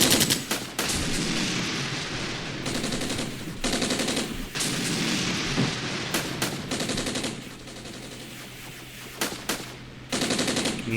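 Rifle and machine-gun fire from a Cold War-era battle along the Elbe in the strategy game Armored Brigade, with dense, continuous bursts and sharp repeated shots at a steady loud level, and no talking.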